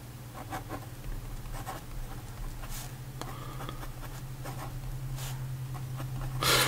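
A Pilot Elite fountain pen with a fine nib and Private Reserve Black Cherry ink writes on paper, giving faint, close scratching strokes in short bursts with small pauses between them, over a low steady background hum.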